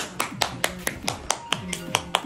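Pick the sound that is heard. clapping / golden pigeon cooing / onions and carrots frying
clapping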